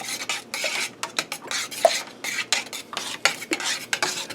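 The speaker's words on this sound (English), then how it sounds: "I'm going to stir this up and taste it." A utensil stirs spices into a sauce heating in a pot, giving repeated scraping and clinking strokes in an irregular rhythm, close and fairly quiet, with no talking.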